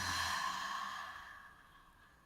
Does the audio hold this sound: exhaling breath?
yes